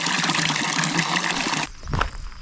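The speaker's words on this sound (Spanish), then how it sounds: "por fin me encuentro esta fuente" Water gushes steadily from a mountain fountain on the Sulayr GR240 trail beyond Trevélez, a close, even rush that cuts off abruptly after about a second and a half, leaving faint handling noise.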